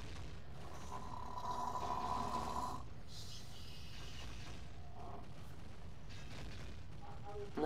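A voice imitates snoring with a low, rumbling breathy drone under game music, with a steady level lasting several seconds while playing Ocarina of Time.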